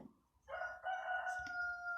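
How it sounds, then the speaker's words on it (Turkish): A rooster crows once, loud and close, a long drawn-out call with a sharp rising start that holds steady before fading, with no talking. "bugün bu horoz da bir türlü susmadı"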